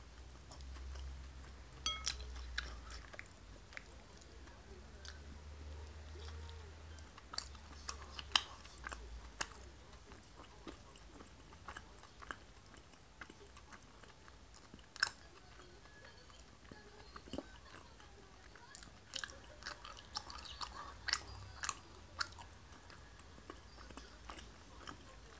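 Close, moist chewing of a maple kinako mochi, producing soft sticky smacks and irregular clicks that go on steadily at low volume over a faint background rumble.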